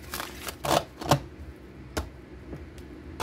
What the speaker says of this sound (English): Two more shuffles, they said.